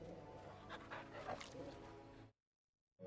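A dog pants in the video game Final Fantasy XVI, quick soft breathy huffs close up with faint whimpering and a voice talking over it, ending abruptly in silence before a brief return.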